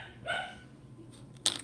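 A dog barks twice from another room, the first a muffled bark and the second a short, sharp one, both sounding distant and faint against a quiet indoor background.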